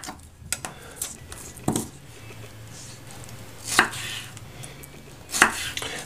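Knife chopping cucumber on a cutting board: several sharp, separate chops, spaced unevenly, close up, with faint room hum and no talking.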